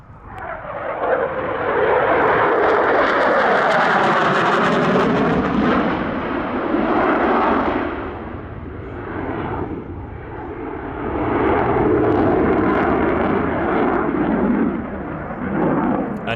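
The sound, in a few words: light training aircraft flying at airshow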